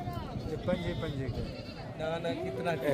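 Goats bleat at a busy livestock market in Dera Ghazi Khan. Several animals call over a dense crowd murmur, and voices talk close by throughout.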